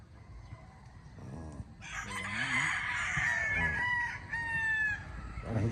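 A gamecock broodcock rooster on a game farm crowing up close: a loud, drawn-out cock-a-doodle-doo rising and holding for several seconds, preceded by softer clucks, alone with no talking over it.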